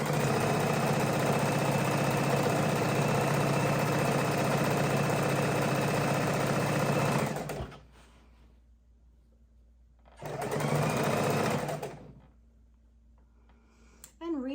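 Sewing machine stitching baby quilt borders, a long steady run of fast mechanical whirring that stops, then a shorter second burst, with quiet pauses between.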